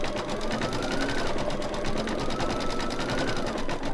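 An embroidery machine stitches a bicycle with hearts design, its needle hammering in a fast, steady, loud rhythm throughout with no pauses.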